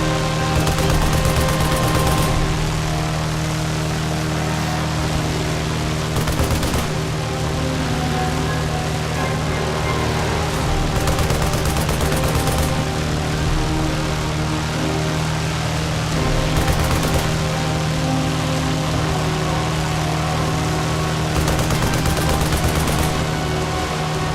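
A weapon in the video game Lost Horizon fires pumpkins as ammunition in a loud, unbroken rattling stream, with surges every few seconds over a steady low hum.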